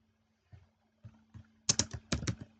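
Keys clacking on a computer keyboard while HTML and JavaScript code is written, a few sparse taps followed by a quicker burst of louder, close keystrokes.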